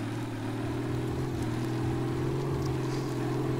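Volvo VM 270 truck engine in World Truck Driving Simulator, a steady low diesel drone with a constant hum, held at an even, moderate loudness as the truck pulls away slowly, with no talking.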